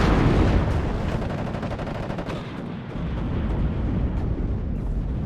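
An aircraft strafes with its guns in the wargame WARNO, giving a loud burst of rapid rattling fire that rolls into a heavy, rumbling roar and dies down to a sustained low din.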